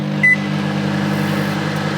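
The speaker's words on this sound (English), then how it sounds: "I also have some leftover rice, which I'll just warm up" A microwave oven warms leftover rice in a hostel kitchen, giving a steady low electrical hum that runs throughout, with one short, sharp beep near the start.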